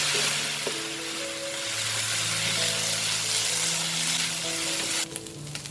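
Vegetable fried rice stir-fries in a hot pan with chilli, garlic, soy and sweet chili sauce, giving a loud continuous sizzle, with steady tonal hums underneath and a brief clatter near the end.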